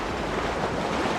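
Steady wash of ocean surf and gusting wind on a French beach during surfcasting, a continuous broadband roar filling the moment with no distinct breaks or voices.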